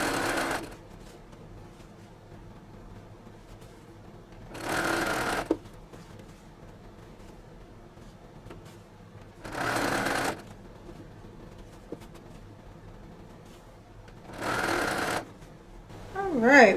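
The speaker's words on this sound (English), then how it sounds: "So I'm just gonna sew all of my red and white stripes together as far as I can" A sewing machine joins red and white quilt stripes in four separate bursts of stitching, each a few seconds long, with quiet pauses and light fabric handling between them.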